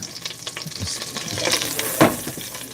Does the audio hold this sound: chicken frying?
yes